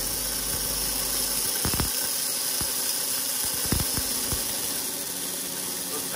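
Tokheim 850 antique gas pump running, giving a steady hissing hum with a few sharp clicks and knocks along the way, fairly close and with no talk.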